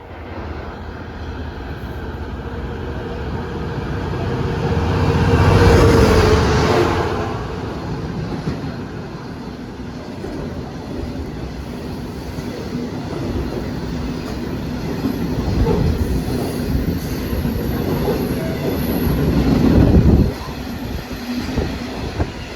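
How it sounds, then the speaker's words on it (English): Freight train hauled by diesel locomotive 66188 passing through Pontyclun station, a loud continuous rumble and wheel clatter with engine surges swelling around the middle and again near the end, heard alone. "Nope, it's a freighter. It's a freight train."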